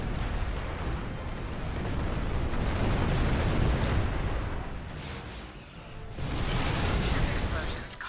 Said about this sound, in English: Explosions cause damage. Put some distance between yourself and exploding ships.